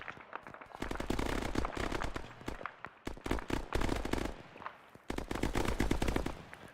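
Gunfire in a co-op military video game mission: dense, rapid automatic bursts and scattered shots, fairly distant and continuous, with brief pauses between volleys and no talking.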